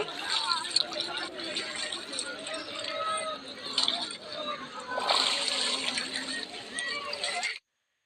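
Several people splash water while bathing in a river at Triveni, the three-river confluence, with steady sloshing and splatter running for several seconds and voices chattering over it before an abrupt stop.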